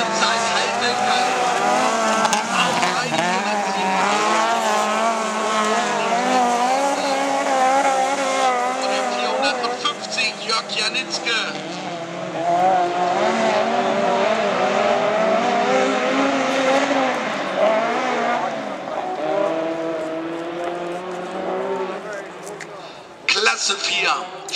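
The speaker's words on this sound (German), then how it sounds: "Klasse 4 Spezialtourenwagen" Class 4 special touring race cars racing, loud engines howling and shifting pitch as cars pass, with tire squeal and a running commentator talking over the noise throughout.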